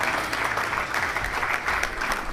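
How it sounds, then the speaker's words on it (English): An audience at a summit event claps steadily for a couple of seconds, a dense, even wash of applause with no pauses. "We can do a little better with the clapping."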